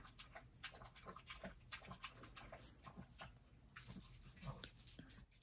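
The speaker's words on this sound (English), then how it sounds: "my dog was drinking loud as crap" A dog laps water noisily from a bowl, a quick series of close, wet clicking slurps in irregular rhythm, faint overall with no talking.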